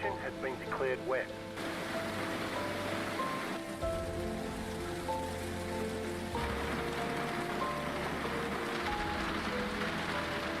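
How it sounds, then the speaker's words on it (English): Steady rain hisses across a wet session at the Nürburgring in a Mazda Cup race, a dense broadband wash running throughout beneath droning car engines, with a voice speaking briefly near the start. "No sign of this rain stopping."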